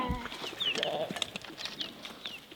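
Farm animals including sheep and a ram make short, scattered bleats and calls at moderate distance over a soft outdoor background, with brief faint voices mixed in.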